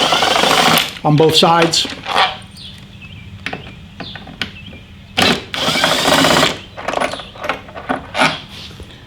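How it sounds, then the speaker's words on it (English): A ratchet tool removing bolts from the fairing of a Harley Davidson Touring motorcycle, short bursts of whirring and clicking close by, broken by pauses, with someone talking between them. "we're going to take these 2 bolts off"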